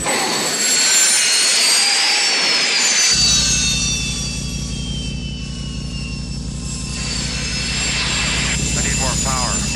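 Airwolf helicopter with turbine engines whining at high pitch, then rotors engaging with a loud, steady low chopping thrum that continues throughout, with voices talking over it.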